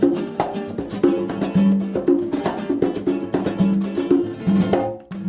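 A band plays loud, busy acoustic music with rapid plucked strings, steady rhythmic strums and a low bass line keeping a lively pulse throughout, with no voices.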